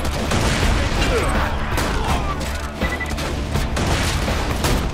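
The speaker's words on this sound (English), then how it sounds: "I have to shoot him in the jetpack. He dies faster." Rapid gunfire from a player blasting at a boss's jetpack during a Borderlands 2 fight, dense and continuous with booming bursts throughout, mixed with game noise.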